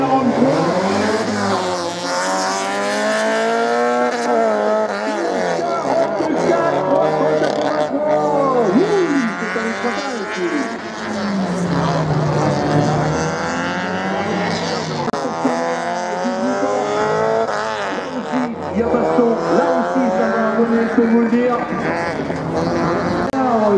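A race car runs a slalom course at Lessay, engine note sweeping up and down through repeated accelerations and turns, loud and sustained, with a commentator talking over it.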